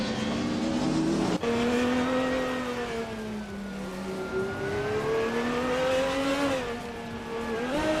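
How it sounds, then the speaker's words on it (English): A 1985 Mazda RX-7 racing in a video game makes a sustained engine whine that rises and falls through gear changes, with tire squeal mixed in, loud and continuous with no voices. "Iconic Odd is driving a 1985 Mazda RX-7."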